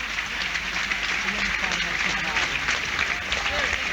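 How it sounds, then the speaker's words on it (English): Stadium crowd at a Burnley versus Cardiff football match gives sustained applause, a broad wash of clapping from thousands of fans, with a commentator talking over it. "this is a planned applause after 14 minutes or so"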